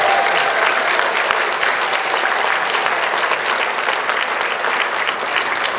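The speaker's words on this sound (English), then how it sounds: "we can give her a round of applause." An audience gives steady, loud applause at a taekwondo black belt exam, with dense clapping that holds without pause and faint crowd murmur beneath.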